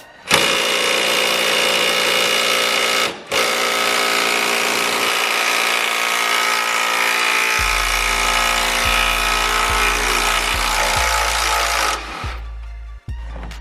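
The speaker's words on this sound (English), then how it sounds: "So now I'm gonna get the gun. Put the 17 on." An impact gun with a 17 mm socket working the nut on a BMW rear shock mount, giving a loud sustained whirring buzz close up, briefly dropping out once, then ending in a few heavy hammering thumps.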